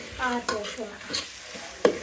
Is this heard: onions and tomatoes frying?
yes